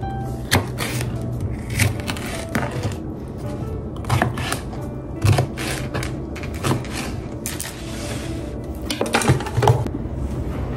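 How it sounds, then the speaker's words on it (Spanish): Repeated chopping of onion and ají peppers with a hand-operated vegetable dicer in a home kitchen, producing a string of sharp clacks and knocks at irregular intervals, close and fairly loud, with no talk. "tengo este aparatico que es con el que lo corto los condimentos y quedan en cuadritos"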